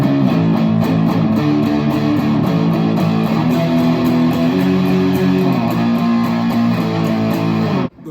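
Distorted electric guitar strums minor and major power chords for a song in a steady, loud wash of sustained chords that slide between positions, then cuts off abruptly at the end.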